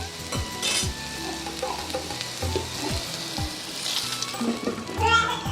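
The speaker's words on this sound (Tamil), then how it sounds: "நல்லா அடிச்சு சிம்மில் வச்சு அந்த அளவுக்கு வெண்டைக்காய் நல்லா வதக்கிங்க." Okra sautés and sizzles in a pan on low heat for a mor kuzhambu, a steady crackle with repeated stirring scrapes, while children's voices chatter faintly in the background.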